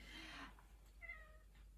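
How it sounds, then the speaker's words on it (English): A house cat meows twice indoors, a longer drawn-out cry followed by a shorter, thinner one, close and fairly soft against a quiet room with a low steady hum. "cat's just brushed past my legs. Do you want to come and say hello?"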